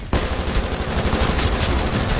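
Rapid automatic gunfire in Titanfall on the Overlook map in a Hardpoint Domination match, a loud, close, sustained stream of shots starting abruptly and continuing without pause.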